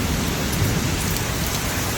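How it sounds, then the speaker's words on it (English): Heavy hail pounds down in a steady, dense, loud roar of hits during a storm in Oklahoma, with no talking. "The hail came down hard and fast with little warning."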